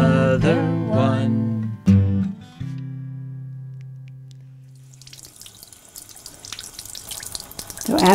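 A tap runs while hands are washed at a sink, a steady rushing splash of water coming in after a short stretch of music and growing closer and louder toward the end.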